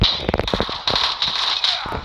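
Rapid M16 gunfire in the mobile shooter COD Mobile, a string of sharp bright cracks in quick uneven bursts, close and loud, with a high sustained game tone behind.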